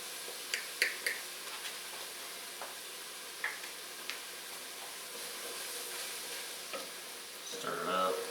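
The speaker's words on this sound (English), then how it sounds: "Stir it up." Spicy white bean chili sizzles quietly in a pan as a spoon stirs it, with a steady soft frying hiss broken by several light clicks and scrapes, then a louder stir near the end.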